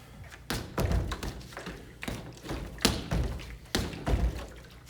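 Punches thud into a heavy punching bag during a jab, hook and uppercut combination, with about five dull, solid impacts landing at irregular intervals, close and fairly loud with no talking.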